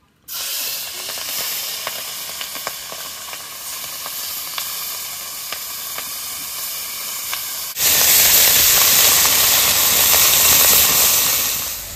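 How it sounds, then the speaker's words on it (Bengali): Continuous crackling sizzle of turmeric-coated fish frying in hot oil in a wok, with scattered pops; the hiss grows louder and brighter partway through and stays steady. "মাছগুলো ভাজার জন্য তেল দিয়ে দিচ্ছি"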